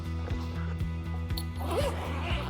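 A zipper pulled along a TOPDON zip-up carrying case with a handle, several quick rasping strokes in a steady rhythm, close and clear, with faint voice underneath.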